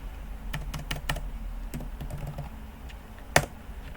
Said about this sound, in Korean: 여기 레이어로 가셔서 엔터 치고 원이라고 적을게요